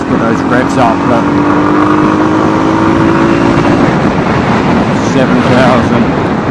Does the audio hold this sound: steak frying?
no